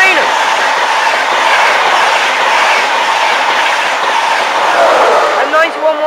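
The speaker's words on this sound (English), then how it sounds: "Just about to come through for Virgin Trains East Coast." Virgin Trains East Coast express passing through Newark North Gate station, a loud continuous rumble and rattle of wheels on rail sustained close by, with faint squeals near the end.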